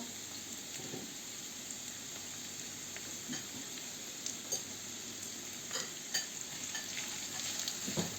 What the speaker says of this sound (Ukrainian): Починає підсмажуватися, тоді сиплемо цибулю.